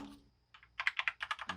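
Keys clatter on a Velocifier wireless mechanical keyboard, a quick burst of about eight crisp, close clicky strokes in uneven rhythm after a short pause, with no talking.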